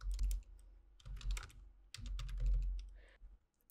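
Typing on a computer keyboard while entering text into a Jupyter notebook cell: bursts of clicky keystrokes in uneven runs with short pauses between them, close and fairly quiet, with no talking.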